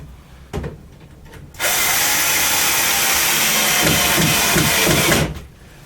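A power drill drives screws into a scrap wood saw stand frame: a brief tap, then one loud sustained whine lasting several seconds before it stops, close by with no talk.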